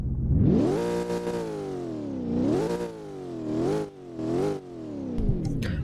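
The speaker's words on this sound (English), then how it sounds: "Revving is also pretty nice." Hennessey Venom GT engine revving in the Roblox game Southwest Florida, several rising and falling revs of a smooth synthetic engine tone, loud and close with no talk.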